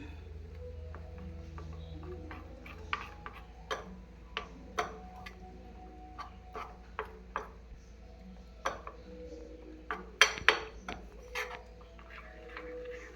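A spoon stirs a raw banana roast with cardamom powder in a pan, giving scattered light clicks and taps against the metal at an irregular pace over a quiet background hum.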